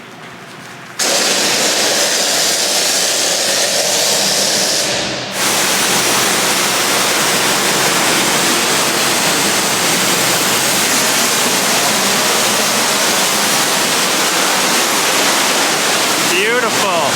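Pressure washer blasting foam and dirt out of a Ford sweatshirt, a loud steady hiss of spray that starts after a second, dips briefly midway and then runs on continuously.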